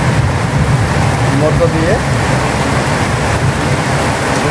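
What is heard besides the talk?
heavy rain with thunder and lightning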